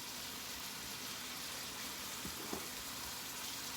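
Shrimp and sausage frying in a pan, a soft steady sizzle and crackle that is fairly faint and continuous, with a couple of small knocks and no talking.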